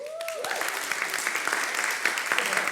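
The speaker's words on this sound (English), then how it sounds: "You shouldn't clap yourself, Neil" Audience applause at a panel event, an even crowd of clapping held at moderate level for a few seconds, with a voice briefly audible at the start.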